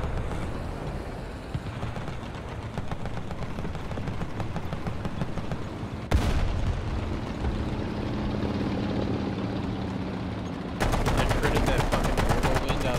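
Rapid automatic gunfire rattles on without pause during a War Thunder tank battle with American tanks. It grows noticeably louder partway through and again near the end, with a droning engine-like hum beneath and occasional voices over it.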